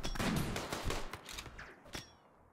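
Gunfire during a RimWorld colony battle, a rapid clatter of overlapping shots and impacts in dense bursts, fairly loud and continuous before tapering off at the end.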